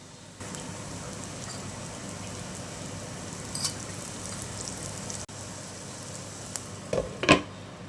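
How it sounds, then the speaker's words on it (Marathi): Tikki frying in a little oil makes a soft, continuous sizzle close by, with a few brief clinks of a utensil near the end and no speech. "आता तुम्हाला इथे थोडंसं फ्राय करायला आता तेल घालावं लागणार आहे"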